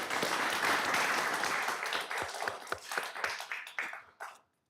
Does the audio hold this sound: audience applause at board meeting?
yes